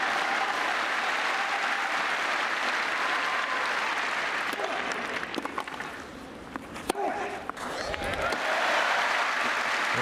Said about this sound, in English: You see the crowd, they're really trying to rally Puerta here at this third set